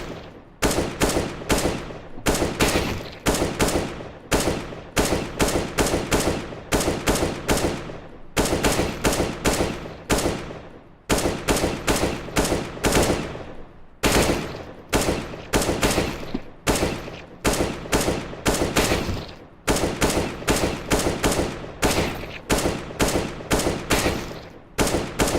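Counter-Strike: Global Offensive gunfire crackles in rapid repeated bursts, loud and close, with short pauses between volleys throughout.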